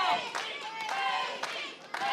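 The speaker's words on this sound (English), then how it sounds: "the crowd trying to get behind the champ" A wrestling crowd cheers and claps for the champion at a Future Stars of Wrestling event, a fairly faint, steady murmur of clapping under a commentator's talk.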